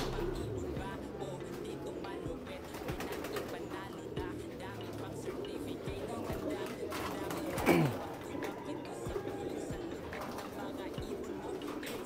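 Pigeons in a crowded loft give soft, repeated cooing in the background while people talk nearby, with a brief louder flutter or call partway through.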